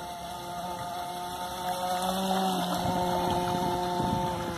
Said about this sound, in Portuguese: aqui não dá pra acelerar muito não. A lancha ela não tem estabilidade, mas é top.